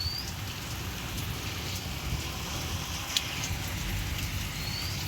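Steady rain pours outdoors during heavy monsoon weather, a constant close hiss of drops on surfaces with occasional sharper splashes and no talking.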